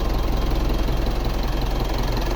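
A 2012 Mitsubishi Montero Sport engine runs steadily right after being started with a newly programmed key, a close, continuous idle with a dense rumble and no talk.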